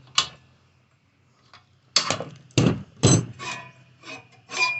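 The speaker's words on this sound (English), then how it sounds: "you can hear the two sides catching" Several dull knocking and scraping catches of a Scotts rotary mower blade against metal while being turned during sharpening, irregularly spaced, close up with quiet pauses between.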